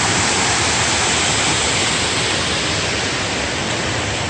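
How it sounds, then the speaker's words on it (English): Waterfall at Mayo River State Park where Fall Creek drops east of the mountains, a loud, steady broadband roar of falling water running unbroken and close throughout, with no voices. "It's nice to see a waterfall of this size"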